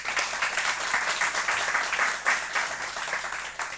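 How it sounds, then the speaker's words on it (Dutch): Applause from an audience seated in the stands at a televised event, greeting young talents named for 2014: steady, dense clapping that carries on loud and even throughout, with no talk over it. "En een applaus voor hun."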